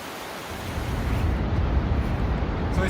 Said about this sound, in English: The last goal of the trip was Vøring Waterfall, which is 182 meters high